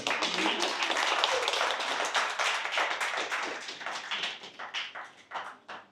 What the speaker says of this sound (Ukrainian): Ви поки можете тихенько починати аплодувати, хто не фотографує.